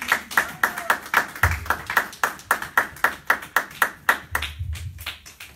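A church congregation clapping together in a steady, even rhythm of loud, sharp claps, about three per second, with a few low thumps mixed in.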